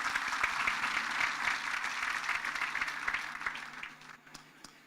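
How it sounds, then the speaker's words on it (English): Guests at a Rotary District 9213 homecoming celebration give a round of hand clapping, a steady wash of many hands at moderate distance that thins and tapers off in the last second. "Please let's have another hand clap."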